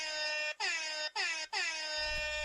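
An air horn played from a phone sounds four times: three long, loud blasts with short gaps between them, then a brief fourth that is cut off into a low rumble.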